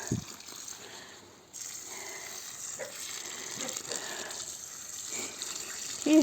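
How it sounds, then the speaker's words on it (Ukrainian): Water poured over freshly planted seedlings, one yellow and one green, in a garden bed, a steady gushing splash that runs throughout after a brief quiet start. "Кидаємо на сінинку, одна жовта, одна зелена, підливаємо гарненько."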